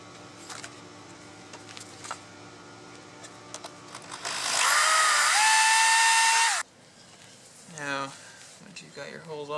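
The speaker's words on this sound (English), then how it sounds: "get a drill and drill some holes." Power drill boring into a 2014-2018 Mazda 3 door panel, a loud high whine running about two seconds before stopping abruptly, with a person talking before and after.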